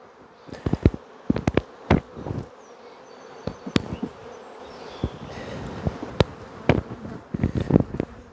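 Honey bees stirred up while nucleus colonies are moved into hives, heard as a low insect hum broken by repeated sharp close knocks and buzzy bursts from handled frames and bees passing near.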